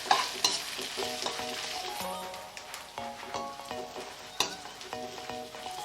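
Ginger paste sizzles in a pan while a spoon stirs it, with repeated metallic scrapes and clinks over a steady frying hiss and no talking.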